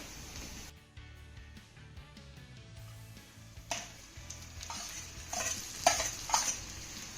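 Chopped onion and mortar-crushed spices sautéing in a pan over a medium flame, a steady close sizzle with stirring scrapes that grows busier toward the end.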